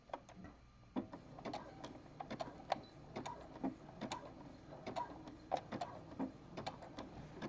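A sewing machine stitches a strappy jockstrap in steady rapid ticking bursts, close and fairly quiet, with no voices over it.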